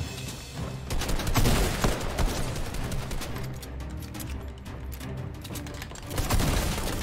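Shotgun fire in Fortnite Season 5, heavy blasts mixed into dense, loud battle noise and continuous game sound with no pauses.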